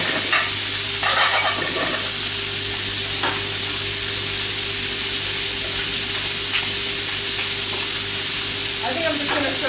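Meat browning in a hot pan for stock, a loud steady sizzle close up with occasional clinks and scrapes of stirring throughout.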